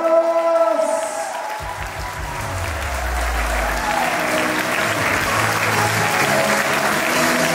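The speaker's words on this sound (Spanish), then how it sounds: "¡Fuertes los aplausos!" Applause from a crowd of guests at a lively Mexican wedding celebration with chinelos dancers, a steady loud clapping that holds for the whole stretch while music carries on underneath.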